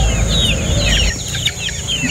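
Golden boy rooster clucking at close range, a run of short repeated clucks over steady low farmyard rumble, no talk.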